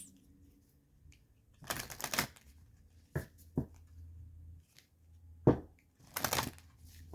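Tarot cards being shuffled by hand, giving a few separate bursts of riffling and slapping with quiet pauses between them and no talk.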